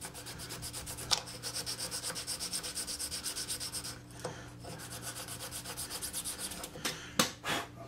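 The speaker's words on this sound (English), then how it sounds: "I can come in here, do a little bit of light sanding" Light hand sanding of a wooden pedestal table leg, a steady rhythmic back-and-forth rasp of abrasive on wood, close and fairly quiet, with a few sharper scrapes and knocks near the end and no talking.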